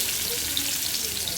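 Slices of pointed gourd (potol) fry in a pan with a steady, close, hissing sizzle that continues evenly throughout, with no voices.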